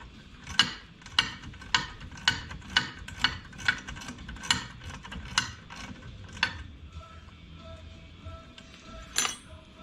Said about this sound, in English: And we tighten the lock nut.